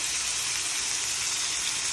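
Salmon fillets frying in a pan, a loud, steady sizzle with constant hiss and no break, close up and without talk.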